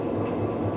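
A train runs on rails in a steady close rumble with rolling low tones, brief and continuous with no voices.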